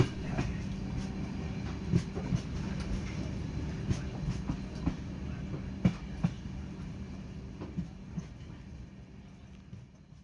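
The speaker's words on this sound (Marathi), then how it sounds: "ट्रेनचा एका लईत येणारा आवाज ऐकून" The Matsyagandha Express rumbles steadily from inside, with periodic clacks of wheels over rail joints recurring in a loose rhythm, moderately quiet.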